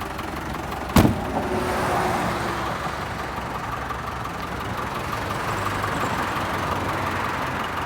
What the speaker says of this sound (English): I feel like this needs a long time to warm up, being a old diesel